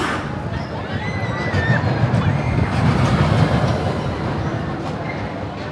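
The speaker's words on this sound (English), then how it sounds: "Actually like a funicular railroad that runs up the side of the mountain." The Magic Mover funicular railroad at Six Flags Magic Mountain in Valencia, California rumbles steadily up the mountainside, with metallic wheel squeals and clanks over a continuous rolling drone and faint background voices.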